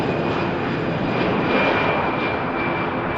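A Lufthansa airliner departs runway 05 Left at Manchester Airport, its engines giving a steady, broad roar that stays loud and constant for the whole stretch, with no voices over it.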